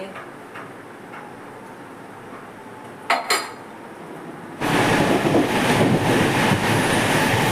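A Mumbai local train heard from inside a carriage, a low rumble that jumps to a loud, roaring rush of wheels and wind partway through, with a brief metallic clatter just before.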